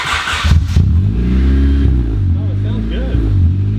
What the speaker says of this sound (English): now we can do our first start with the Spoon exhaust.